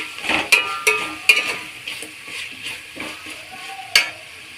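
A spoon stirs and mixes mint leaves, coriander and other ingredients for aloo pulao in a frying pan, with light scraping and a soft sizzle under several sharp metallic clinks of utensil against pan, close by and with no voices.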